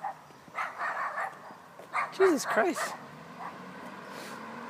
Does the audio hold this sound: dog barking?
yes